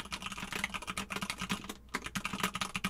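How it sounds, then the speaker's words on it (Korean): Steady, fast typing on a mechanical keyboard, with crisp, clacky keystrokes that sound close and loud and are heard alone without any voice. "일단 기계식 키보드"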